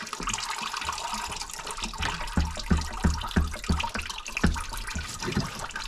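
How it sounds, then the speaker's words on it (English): Coolant drains from a Lexus IS200 engine during timing belt work, a steady, close splashing flow of liquid with a run of rhythmic gurgling pulses through the middle. "Oh, that's quite a lot of coolant."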